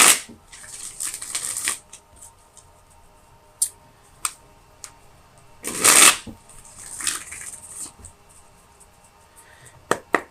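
Tarot deck being shuffled for clarifier cards, with close, crisp riffling bursts at the start and a loud flurry midway, then scattered light card taps in a quiet room.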